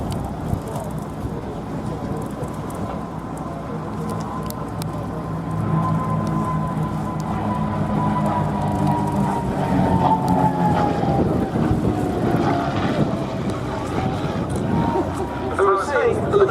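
A de Havilland DH.88 Comet replica flies its solo display at a Duxford air show: a steady engine drone swells as the aircraft passes and its pitch slowly falls. A commentator speaks over a public address throughout.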